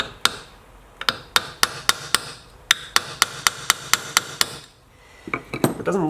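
Sharp hammer taps on a Honda S600 steering rack part during disassembly, about a dozen loud metallic strikes in an even rhythm, followed by quieter clinking and rattling at the end.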